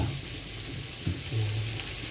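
Celery sautéing in a pan for pancit, a continuous close sizzle with a brief stir partway through, no talk.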